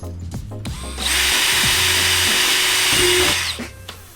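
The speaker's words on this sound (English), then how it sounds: "And then we're gonna drill 2 more holes slightly" A power drill bores a hole through a plastic car bumper panel, a loud whining burst of about two and a half seconds with a rising pitch near the end, preceded and followed by short handling knocks.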